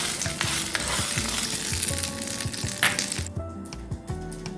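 Hot tempering poured into tuthuvalai chutney bursts into a loud, close sizzle with crackles and stirring clatter, then the hiss fades sharply near the end.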